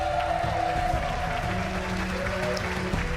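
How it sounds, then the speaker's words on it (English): Audience applause at a Halo Championship Series Major gaming tournament in Arlington, a steady, dense wash of clapping from a large crowd filling the arena, with faint background chatter and announcer reverb underneath. "And everybody give Shurs a round of applause, please."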